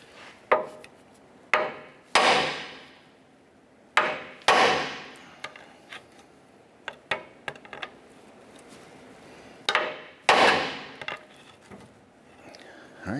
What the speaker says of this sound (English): Now what we want to do is we're going to use a hammer. We're going to strike our knuckle here to release our lower ball joint.